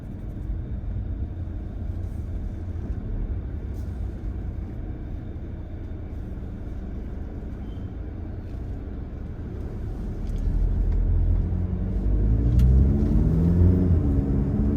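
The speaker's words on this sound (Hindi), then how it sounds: "जब हमने कार को स्टार्ट किया तभी भी बहुत ज़्यादा नॉइज़ कार की बाहर भी आ रही थी और केबिन के अंदर भी" An Audi Q3 diesel SUV idling after being started, a steady low rumbling engine drone heard from inside the cabin that swells louder toward the end.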